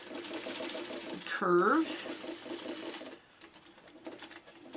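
A sewing machine stitches a curved seam on a Dresden quilt block, running in a fast, steady rhythm close by. A brief spoken word cuts in partway, and the motor stops about two-thirds through, leaving quiet room noise.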